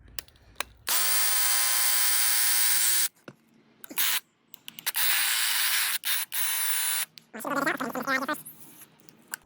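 A handheld paint sprayer sprays water while it is being cleaned, in loud, close hissing bursts. One long burst is followed by several shorter ones with clicks and brief pauses between them.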